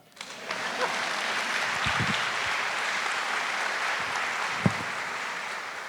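Audience applause at a political event on the future of the Democratic Party, swelling quickly into a sustained, even roar of clapping from a large room, with a few faint voices underneath.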